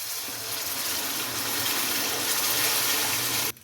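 Chickpea cooking water is poured into a pot for chana pulao, a steady splashing gush lasting a few seconds that cuts off sharply at the end, close and alone.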